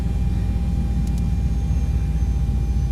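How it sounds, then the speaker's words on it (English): Boeing 737 jet engines winding down in the X-Plane 11 flight simulator, a steady broad rumbling roar with a constant hum, loud and unbroken throughout, no talk. "Of course, the engines are still winding down."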